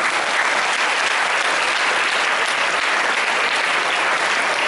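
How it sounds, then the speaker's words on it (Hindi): A school audience at a Hindi Divas celebration clapping for students, a loud, dense and sustained wash of applause throughout. "आप सब लोग उनके लिए एक ताली बजाएं।"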